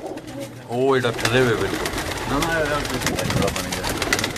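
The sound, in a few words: pigeons cooing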